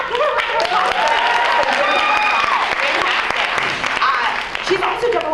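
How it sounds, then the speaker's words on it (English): Applause from an audience at a theatre-industry panel presentation, a steady dense wash of clapping under voices and a few whoops, loud and continuous. "give her a round of applause"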